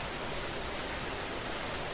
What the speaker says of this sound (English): listening to the rain pounding on the roof